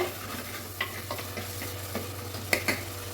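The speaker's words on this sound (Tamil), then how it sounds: "இந்த மாதிரி பருப்பில் போட்டு தக்காளி போட்டு நல்லா ஆயிலில் வதக்கிடுங்க." Tomatoes and dal sautéing in oil for drumstick sambar, a steady soft sizzle with a few scraping stirs of a spoon in the pan, close and alone.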